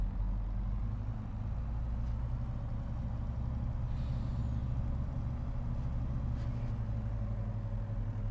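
Low, steady truck engine rumble in Farming Simulator 25 running continuously, with a brief hiss partway through, no voices.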